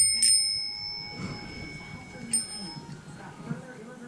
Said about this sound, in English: When you need a refill and don't want to get up, just ring the bell